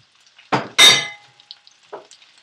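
Baby bella mushrooms are tossed into a hot pan in two quick bursts, a sharp sizzle flaring and fading, then a faint clatter of a utensil.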